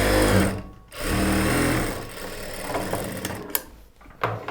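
Sewing machine stitching a churidar top, running in a loud continuous whir that stops briefly, then resumes more unevenly with short pauses and clicks toward the end.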